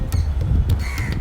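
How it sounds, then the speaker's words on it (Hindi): A few short, harsh caws ring out from a crow outdoors on a home balcony, spaced unevenly over a low background rumble. "अच्छा, कौवा भी है।"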